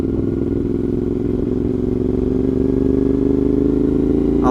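A 2023 CFMOTO 450SR motorcycle engine drones steadily and loudly during a brake test, its pitch sliding slowly downward as the bike slows, with a faint clatter and no voices.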